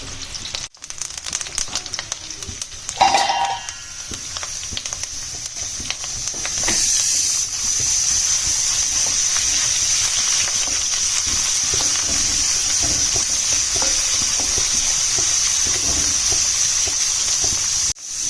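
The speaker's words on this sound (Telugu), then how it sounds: "ఆనియన్స్ మంచిగా ఫ్రై అయిన తర్వాతనే నెక్స్ట్ ప్రాసెస్ స్టార్ట్ చేయాలి" Onions frying in a pan for a chicken fry, giving a steady, close sizzling hiss that swells after a brief clatter and then holds evenly with no talking.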